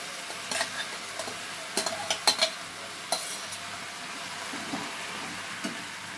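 Spice paste for chilli chicken sizzling in a frying pan with a quiet steady hiss, broken by sharp scraping and clinking stir strokes of a spoon against the pan, close up.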